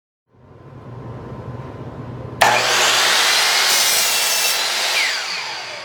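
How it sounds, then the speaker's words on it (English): A SKIL 10-inch dual-bevel sliding compound miter saw hums as it spins up, then bites into a wooden board with a loud, sustained cutting roar trimming a thin slice off the end. "So now let's make a cut. I just need to cut off about an 1/8 inch off of this board."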